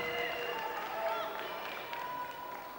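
A crowd at a women's super featherweight title fight in Kent applauds and cheers a local fighter climbing into the ring; steady broad crowd noise with bright tonal streaks runs throughout at a fairly even level.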